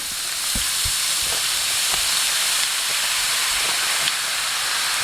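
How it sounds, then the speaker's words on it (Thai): Shredded lemongrass fries in a generous pool of hot oil over medium heat, giving a steady, loud, continuous sizzle and hiss with faint, irregular taps from stirring, and no talking. "น้ำมันร้อนแล้วก็จะใส่ตะไคร้กันเลยนะครับตะไคร้ฝอย"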